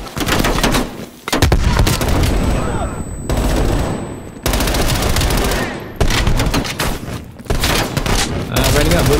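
Rapid gunfire in the video game Call of Duty: Black Ops Cold War campaign, loud sustained bursts and volleys with brief gaps, dense and close, with a voice talking over parts of it.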